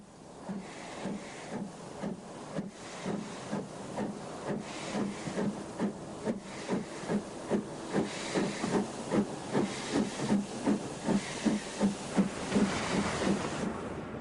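A French 040D steam locomotive pulls away, its chuffing exhaust beats starting slow and spaced, then quickening and growing louder over a constant steam hiss.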